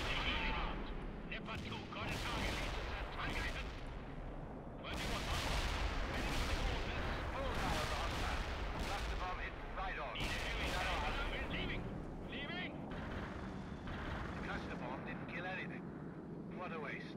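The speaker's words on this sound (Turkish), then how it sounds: "Binalara yakın birkaç bomba iyi olabilir." Bombs burst near buildings in the World in Conflict: Soviet Assault strategy game, heavy booming blasts arriving in repeated bursts, with a voice talking over parts of it.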